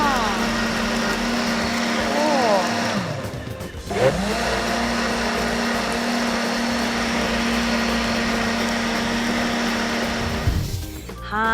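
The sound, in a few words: blender grinding ingredients for organic pesticide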